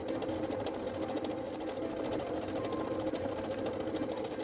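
A PFAFF Creative Ambition 640 sewing machine stitches fabric in mirror mode, a steady quiet mechanical whirring hum with a fast even rhythm, close and continuous throughout.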